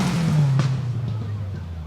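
A rally car drives through a forest stage at Mt Grey Down in Ashley Forest during the Lone Star Canterbury Rally, its engine droning loudly and then falling in pitch as it passes and fades.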